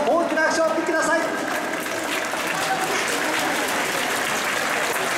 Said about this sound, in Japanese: 奈良選手にも大きな拍手を送ってください。